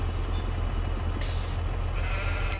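Sheep in Farming Simulator 22 bleat over a loud, constant low engine drone from farm machinery, with a couple of short bright bleats standing out near the middle and end.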